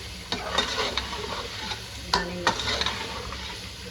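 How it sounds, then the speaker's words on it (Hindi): Biryani masala with yogurt fries in a pan while a spoon stirs it briskly, producing repeated scraping strokes over a continuous close sizzle, with one sharper knock midway and no voices. "अब इसको अच्छे भून ले रहे हैं।"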